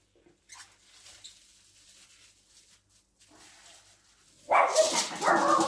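Dogs barking outside on a cold, sunny day, starting as faint distant sounds and then turning into a sudden loud burst of barking near the end.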